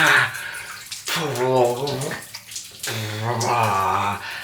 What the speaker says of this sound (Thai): ตอนนี้ขออนุญาตอาบน้ำก่อนนะครับ